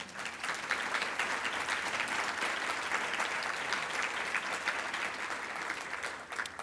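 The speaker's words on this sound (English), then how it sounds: "I'd like to give them all a round of applause." A round of applause at a public servants merit awards ceremony, sustained clapping from a sizable audience that stays even and moderately loud throughout before easing at the very end.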